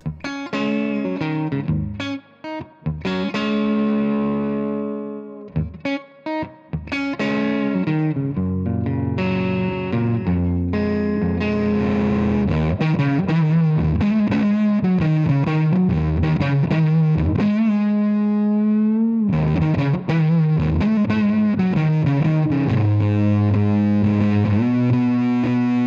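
Electric guitar played through a homemade Fuzz Face distortion pedal, thick saturated fuzz on held notes and chords with short breaks early on, then sustained distorted riffs alone without talk.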